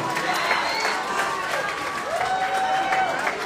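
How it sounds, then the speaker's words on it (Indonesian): Applause from a noisy group at a team game session, a continuous rustling patter of clapping mixed with crowd murmur and a faint whistle-like tone, fairly steady throughout. "Beri tepuk tangan untuk Seven Mandela dan Seven Carter."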